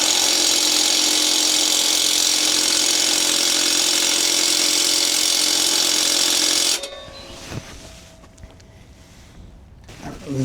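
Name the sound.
impact wrench on rusted exhaust bolts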